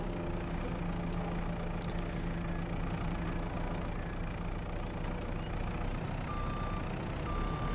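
A truck in the video game Farming Simulator 22 idles with a loud, dense engine rumble while its reversing alarm beeps in a regular repeated rhythm throughout.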